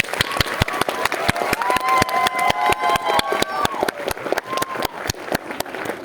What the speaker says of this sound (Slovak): tak vás poprosím obrovský potlesk